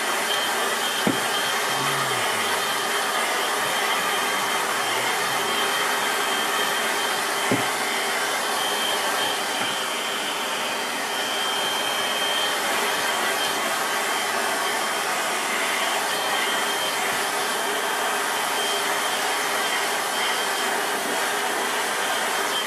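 A handheld hair dryer blows a steady, loud roar across a watercolour landscape painting as it dries, continuous for the whole stretch with one brief dip in intensity.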